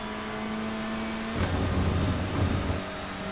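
A touring car engine at full power in the iRacing video game, TCR class at Portimão in the Algarve, droning steadily and then shifting into a rougher, louder roar as it accelerates, with no talk over it.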